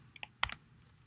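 A few quick, light keystrokes on a computer keyboard, a short cluster of clicks close by against a quiet room.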